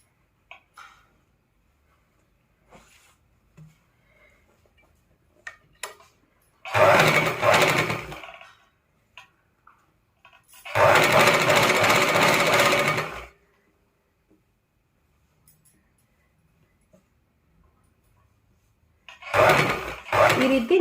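A sewing machine stitches a puff sleeve in three loud whirring bursts of a few seconds each, separated by near-quiet gaps with faint handling sounds and a soft voice.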